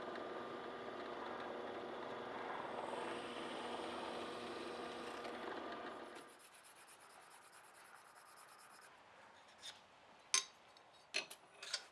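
A drill press cuts a tang slot into a knife handle with a steady grinding, rubbing drone for about six seconds. It then stops, leaving quiet handling noise and a few sharp clicks and knocks.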